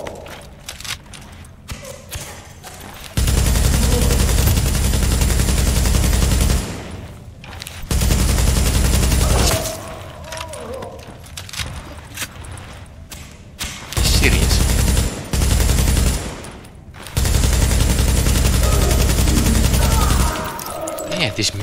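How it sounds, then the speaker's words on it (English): Machine gun fire in the shooter game Tom Clancy's The Division, with long loud bursts of rapid automatic shots separated by short pauses, and a voice speaking between the volleys. "This machine gun is not bad at all."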